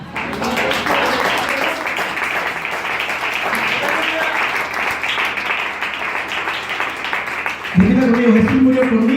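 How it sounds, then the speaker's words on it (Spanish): Church congregation applauds steadily and warmly for several seconds, a dense even patter of many hands, before a pastor's amplified voice cuts back in. "Un aplauso al Rey"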